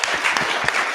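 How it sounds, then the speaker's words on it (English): An audience claps after a speech at a Tauranga electorate election event, a dense burst of applause that holds steady and fairly loud throughout, with no speech over it. "thank you to the audience for the clapping"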